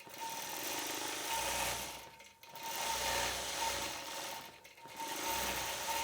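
A sewing machine stitches out a quilt block with a steady, loud mechanical chatter, pausing briefly twice before running on again; no voices.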